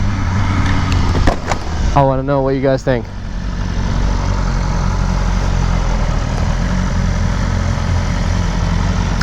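BMW M1000RR motorcycle with a full titanium exhaust system, its engine idling in a steady low rumble throughout, with one brief rising rev around the middle and someone talking briefly near the start.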